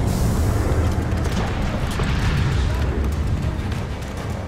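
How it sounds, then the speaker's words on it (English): A rocket explosion in the shooter game FEAR 3 gives a loud, dense rumbling boom with crackling debris that fills the clip and slowly tapers, with no clear talk over it. "I shoot one rocket at him. Before I shot like two rockets at him."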